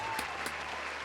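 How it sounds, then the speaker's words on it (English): A small group of people applauds briefly, a short burst of scattered clapping with a couple of sharper claps, close and fairly loud. "All right, clap."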